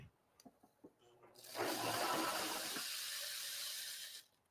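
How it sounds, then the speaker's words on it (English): Rice pours through a paper funnel into a bag while a heater bag is made in a kids' class, a soft continuous hissing rush lasting about three seconds after a few faint clicks and murmurs. "Now we're going to pour in the rice."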